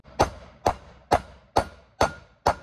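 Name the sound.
hammering bearing race into case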